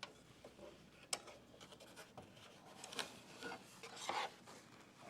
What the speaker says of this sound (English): Okay, so I need to trim my vinyl.